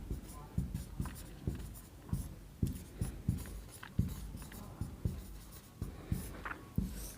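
Pen or chalk writing on paper while a straight line is ruled, a steady series of short scratchy strokes and taps repeating close up with no talk.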